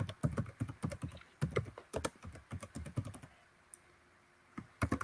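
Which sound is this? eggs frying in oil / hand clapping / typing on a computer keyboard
typing on a computer keyboard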